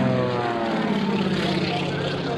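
A propeller airplane built to look like a golden-age aircraft performs a barrel roll at an Air National Guard open house air show, its engine droning loudly and steadily throughout, with an announcer talking over it.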